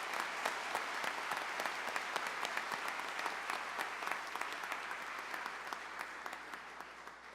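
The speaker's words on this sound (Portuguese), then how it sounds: "E eu pediria aplauso." An audience at a solemn session honoring an evangelical church, Avivamento Bíblico, applauds: dense, continuous clapping with crisp individual claps. It holds steady, then tapers slightly toward the end, heard at moderate distance.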